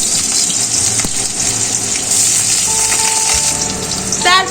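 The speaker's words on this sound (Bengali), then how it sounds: "সাদা তেলটা গরম হয়ে গেছে, এবার দিয়ে দিচ্ছি রসুন" Garlic and onion hit hot white cooking oil, producing a loud, continuous hissing sizzle with a watery, gushing texture and a brief bright burst near the end.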